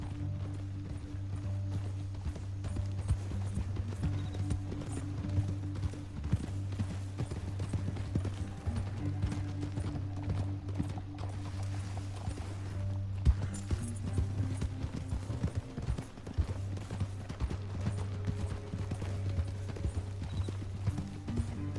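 Horse hooves galloping in Red Dead Redemption 2, a fast continuous drumming of hoofbeats under a droning game soundtrack, mid-distance and fairly even, with no voices.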